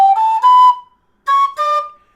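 A Howard tin whistle plays short sustained notes in two phrases, the first sliding up a step and the second settling lower, with clean breathy tones and silent gaps between them.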